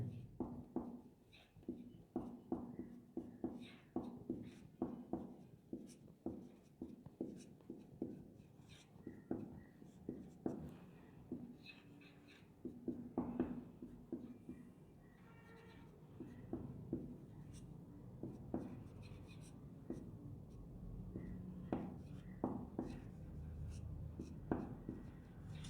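Chalk or a marker writes on a board in a chemistry lesson, a long run of quick scratching strokes and taps, quiet and close, with a voice speaking faintly at times.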